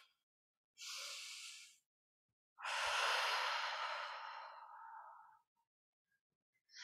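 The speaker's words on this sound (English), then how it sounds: "You can take a nice deep breath" Slow, deep breathing during a seated shoulder-circle warm-up: a short inhale followed after a pause by a long, airy exhale that fades out, close and clear in a quiet room.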